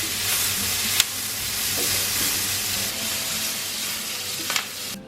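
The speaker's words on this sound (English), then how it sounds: "I've got the onions and the peppers. And we're gonna put that in there, we're gonna fry them." Onions and peppers fry in a pan with a continuous close sizzle and hiss, broken by a few sharp clicks and clatters of stirring near the start and again toward the end.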